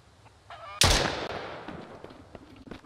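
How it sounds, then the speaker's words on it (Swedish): A sudden loud burst in a video game, followed by squawking, honk-like chicken calls that fade over a couple of seconds, with faint noises around them. "Oh, det är en kyckling!"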